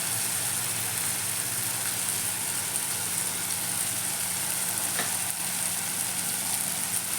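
Steady, even sizzle of drumstick sabzi frying in a pan as turmeric powder goes in, a constant close hiss with no talking.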